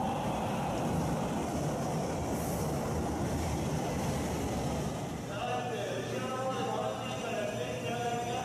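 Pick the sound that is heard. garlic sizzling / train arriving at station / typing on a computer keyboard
train arriving at station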